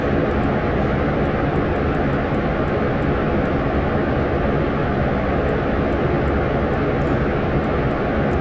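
A rocket lifting off in the video game Kerbal Space Program, heard as a steady, loud, broadband engine roar that holds constant throughout with no talk.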